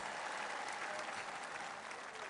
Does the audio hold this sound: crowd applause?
yes